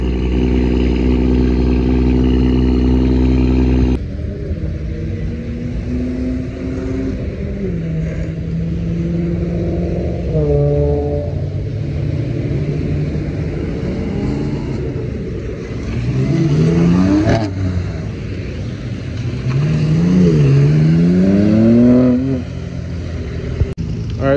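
Several BMW cars rev and pull out of a gas station one after another, with an idling engine at first, then rising and falling throttle blips and accelerating engine notes, loud and nearby, without talking.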